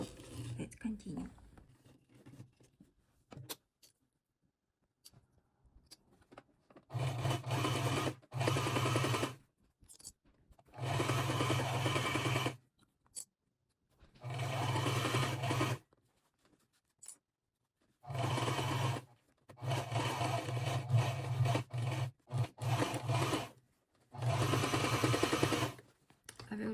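An industrial sewing machine stitches a small leather demilune bag, running in about seven distinct bursts of rapid mechanical whirring separated by short quiet pauses.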